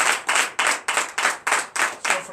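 A church congregation at a Sunday worship service in Benin claps in a strong, steady rhythm, about eight loud, evenly spaced bursts of many hands together.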